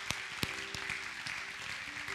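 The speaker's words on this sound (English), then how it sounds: "let's give him a great hand clap of praise." A church congregation claps in praise, a short burst of scattered, uneven hand claps heard fairly close, with sustained organ or keyboard tones underneath.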